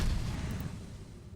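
A huge explosion from a nuclear missile launch in Cataclysm: Dark Days Ahead rumbles deep and loud, a sustained low roar that slowly fades over about a second, with no voices.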